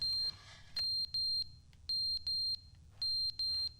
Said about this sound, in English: Oh, is that like a smoke alarm?